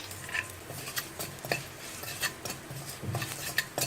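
Dry spices and salt are stirred in a pan, a metal spoon scraping and clinking against the surface in quick repeated strokes, close and clear with no talk.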